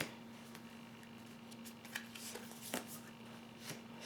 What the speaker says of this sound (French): Alors, je vais prendre cette carte,